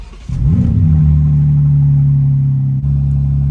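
A BMW G80 M3 fitted with a Stage 1 tune cranks and fires into a loud, steady idle that holds a deep rumble, with a brief dip near the end and no talking.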